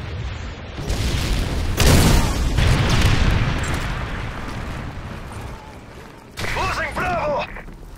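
A Predator missile strike explodes in Call of Duty: Modern Warfare 3 during a Domination match, a deep rumbling boom swelling and rolling on for several seconds, followed by a sharper burst of game noise near the end.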